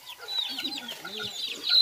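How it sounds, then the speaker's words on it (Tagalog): A rooster clucks in a quick run of short, throaty calls, close and fairly loud, with no other sounds around it. "Sigurado, tandang to."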